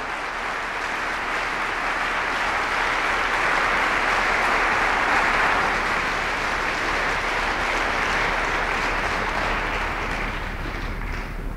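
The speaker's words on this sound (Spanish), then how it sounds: "Dele un buen aplauso a Él" A church congregation claps together in a steady, dense wash of applause that stays loud and even throughout, with no voices rising above it.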